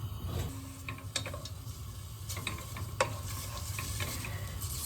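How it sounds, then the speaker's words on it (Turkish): Onions sautéing in a pan ahead of butter being added, a steady low sizzle with occasional clicks and scrapes of stirring throughout, close and moderately quiet, with no voices. "Soğanlarım güzelce kızaracak."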